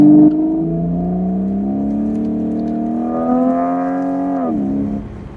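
BMW E85 Z4 accelerating hard in sport mode, heard from inside as a loud, smooth engine note that climbs steadily in pitch, briefly eases at a shift, then rises again.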